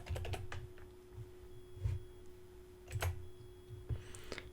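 Someone types on a computer keyboard in a quiet room: short bursts of key clicks, some sharper taps, spaced unevenly over a few seconds against a faint steady hum.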